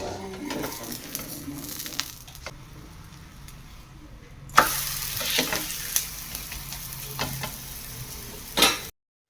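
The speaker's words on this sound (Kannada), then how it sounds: "ಎರಡು ಕಡೆನೂ ದೋಸೆ ನೀಟಾಗಿ ರೋಸ್ಟ್ ಮಾಡ್ಕೊಳ್ಳಿ." A dosa roasting in oil on a hot tawa, with a steady close sizzle, a brief quieter spell, then louder frying broken by scraping and clinks of a spatula on the pan.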